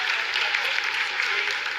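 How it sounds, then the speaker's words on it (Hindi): Steady, dense clapping from a crowd in the ISRO mission control room during the Chandrayaan-3 lunar landing, sustained at an even level throughout with no pause. "Lot of applause indicates that till now the performance has been nominal."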